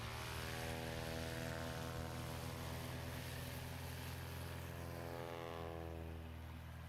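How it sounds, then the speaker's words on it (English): A Piper J3 Cub propeller airplane flies overhead at a STOL competition, its steady droning engine and prop hum holding loud and constant throughout with no talk. "A Piper Cub up there."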